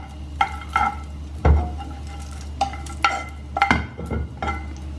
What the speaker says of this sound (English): Just give it a good stir.